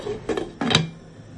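A lid set onto a pan of heating water for chicken egg soup, giving a couple of quick metallic clinks and a short scraping rattle close by, then quiet.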